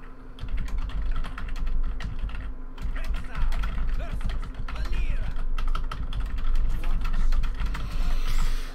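Fast clattering keystrokes on a computer keyboard run almost continuously, close and fairly loud, under a steady low hum and occasional speech.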